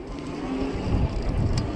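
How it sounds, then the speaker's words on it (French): Dual-motor electric off-road scooter, half bike and half kick scooter, accelerating outdoors; a steady low rumble with wind buffeting the microphone runs throughout, fairly close and without talk. "avec les deux moteurs, putain, ça accélère"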